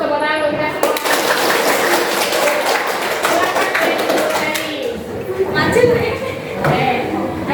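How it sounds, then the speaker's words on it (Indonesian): A classroom of students applauding, a ragged burst of close hand claps and taps filling several seconds, fading briefly then picking up, with voices mixed in. "Tepuk tangan untuk kita semua."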